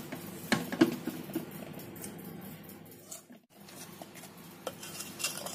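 Rice flour is stirred into sugar syrup for chalimidi, giving soft, wet squishing and scraping with light clinks of a spoon against the pot, quiet and uneven, with no talking.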